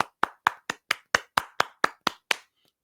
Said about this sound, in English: Ovation as I clap my hands for both of you